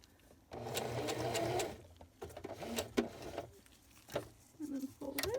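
A sewing machine stitches a double-layer cloth face mask in short, close bursts of rapid clatter separated by pauses, with small handling knocks and a quiet voice in between.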